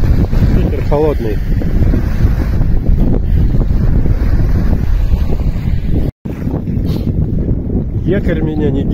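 A cold wind buffets the microphone in loud, rough gusts on the Tiligul estuary while fishing from a small anchored boat, with water lapping and someone speaking briefly under the noise.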